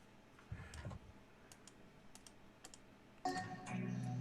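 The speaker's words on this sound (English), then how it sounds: "We can hear your mouse clicking." Soft, sparse clicks of a computer mouse over a quiet call line, several light taps spread out, with brief low background noises.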